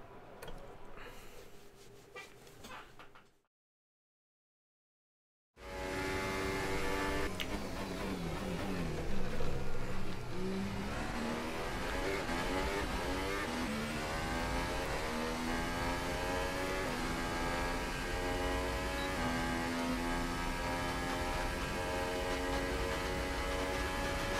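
Formula 1 car engine from the F1 2018 racing game, a loud continuous high-revving whine with rising and falling gear pitch after a brief silent gap, running steadily with no talk.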